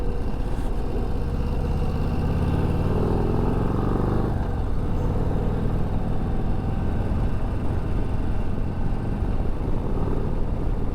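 A Harley-Davidson Low Rider ST performance bagger runs through S curves with a steady, loud, close engine drone and wind rush, its tone shifting noticeably partway through as the rider changes speed.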